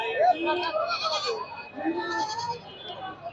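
Sold goats at a busy native goat market bleat in short, wavering calls, mixed into a continuous hum of crowd voices and nearby talk.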